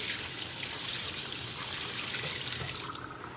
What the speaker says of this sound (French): Là, je vais mettre de l'eau.